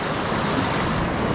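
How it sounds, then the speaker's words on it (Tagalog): Floodwater released in a surge rushes loudly and continuously, a dense broadband roar with no breaks. "Napakawala sila ngayon ng tubig."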